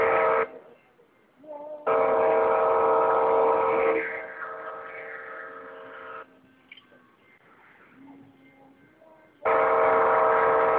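A train rumbles past with loud bursts of sound, fading to quieter rolling noise before another loud surge returns near the end.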